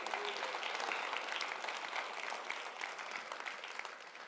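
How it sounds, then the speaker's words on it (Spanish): A church congregation applauds during a sermon. The clapping is fairly quiet and a little distant but continuous and evenly spread, with no voices over it. "Denle un aplauso al Rey."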